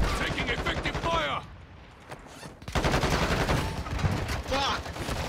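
Gunfire in the video game Call of Duty: Modern Warfare II, loud dense bursts of shots at the start and again from the middle onward, with a quieter pause between, mixed with game sounds and voices.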